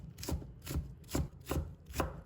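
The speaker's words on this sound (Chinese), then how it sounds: "再切成细丝，不一定要切得很细，但尽量切得均匀一些。" A knife chops through lotus root on a cutting board, cutting it into thin strips with five evenly spaced, crisp strokes, close and moderately loud.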